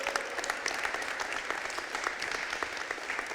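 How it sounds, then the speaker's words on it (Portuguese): Congregation applauding during a church service, a steady wash of many hands clapping at moderate distance, continuous through the whole stretch with a faint voice underneath. "Salva de palmas para Jesus"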